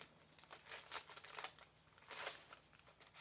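Glued double-layered applique fabric is peeled up from a surface in short crinkly, tearing bursts, soft and close, with brief pauses between pulls.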